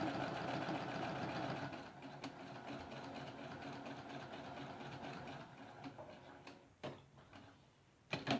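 A sewing machine stitches a half square triangle quilt block, its rapid ticking run loud at first, then easing and trailing off into a few separate clicks and thumps.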